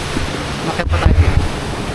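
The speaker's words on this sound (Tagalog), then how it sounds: "Tignan mo yung current ng tubig." Strong floodwater current surges during Typhoon Opong in Occidental Mindoro, a rough rushing wash mixed with wind buffeting against the microphone and a couple of louder low gusts or splashes midway.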